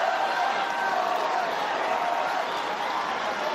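Steady broadband crowd murmur fills a tennis stadium at the Australian Open as spectators stand before match point, a continuous loud wash of voices with no distinct applause.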